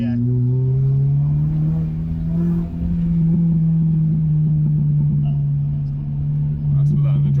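A tuned Honda Civic EP3 Type R engine drones steadily under acceleration with a low, even exhaust note and occasional faint pops, heard from inside the car while people talk over it.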